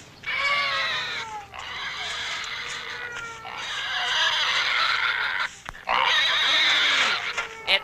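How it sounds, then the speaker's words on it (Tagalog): A pig in a Filipino comedy film vocalizes in several loud, high, strained bursts separated by short gaps, close to the listener. "Takanin mo na yung baboy!"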